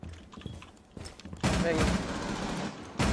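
Gunfire in the game Rainbow Six Siege, scattered shots followed by a loud sustained burst, then another sharp burst at the end, with someone talking over the opening shots.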